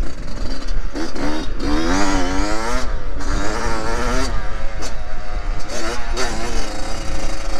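Dirt bike engines, including a Yamaha YZ 125, whine and rev up and down repeatedly on a motocross track, fairly close, with a rough buzzing tone and some wind noise.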